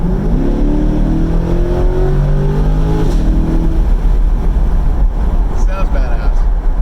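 A 2020 C8 Corvette fitted with aftermarket headers accelerates, its exhaust rising in a rising roar with climbing harmonic sweeps over the first few seconds, then settling into a loud steady drone; someone speaks over the engine throughout.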